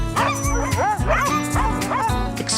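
Sled dogs at the Mount Hotham ski resort in Australia yipping and barking in quick repeated bursts, several excited high-pitched calls close by.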